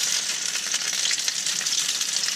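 Oatmeal patties fry in a nonstick pan, giving a continuous bright, dense sizzle that stays steady and close throughout, with no talking.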